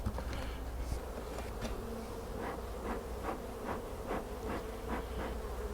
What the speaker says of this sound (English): They're so full of field bees in the hive.